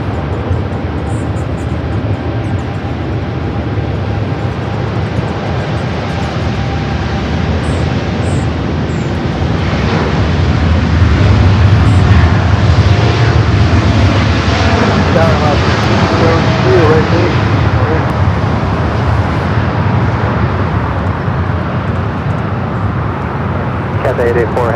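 A Delta heavy jet, flight 884 bound for Tokyo Narita, takes off from runway 24 left at LAX, a steady broad engine roar that swells slightly midway, heard from a distance with faint wind and traffic underneath.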